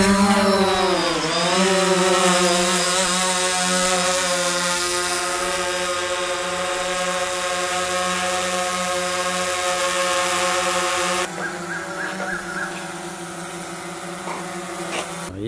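A small consumer drone powers up and lifts off, its rotors giving a loud, steady buzzing whine close by that rises in pitch at the start and holds through flight, with a shift in tone near the end.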